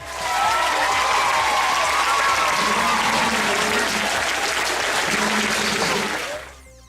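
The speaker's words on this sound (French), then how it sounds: "Le scuole che hanno vinto sono state acclamate da una sala piena a tappo" A packed hall of spectators applauding winning schools at a school competition in Afa, sustained loud dense clapping that fades out at the end.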